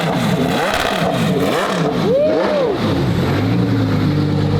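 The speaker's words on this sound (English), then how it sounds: "That car sounds so pissed off." A race car with a sequential gearbox revs loud and close, its engine note rising and falling in repeated aggressive sweeps before settling into a steady idle rumble.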